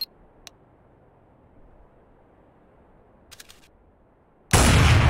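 A grenade in Counter-Strike: Source goes off as a sudden loud burst near the end, after near-silence broken by a few faint clicks.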